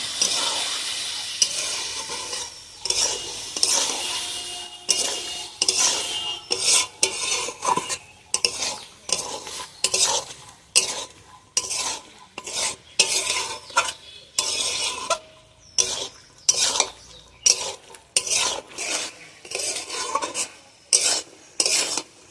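A metal spoon stirs and scrapes a pan of ghugni with boiled peas and potatoes, sizzling throughout. The scrapes come in repeated rhythmic strokes with short pauses, close-up, with no talking.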